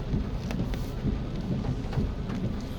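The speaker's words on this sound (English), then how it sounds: "the rain is dwindling down a little bit, but lots of water still on the road" Steady, dense rain hiss and tire spray on a flooded road in Kingston, Jamaica, with a low rumbling drone of a car underneath, continuous throughout.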